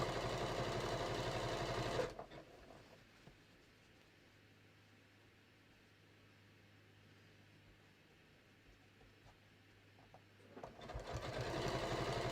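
A sewing machine zigzag stitches open seams flat on a quilted batik floppy hat, loud steady whirring at the start and again at the end, with a quiet gap in between.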